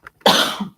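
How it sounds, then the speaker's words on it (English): A single sharp, loud cough bursts out and trails off over about half a second, after a faint catch of breath, from someone livestreaming indoors amid wildfire smoke. "Excuse me, I may be coughing."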